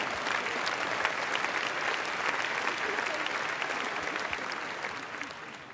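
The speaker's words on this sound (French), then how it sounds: "J'ai adoré le temps de latence des applaudissements" A comedy show audience claps in a steady crowd applause, dense and fairly distant, holding evenly before fading slightly toward the end.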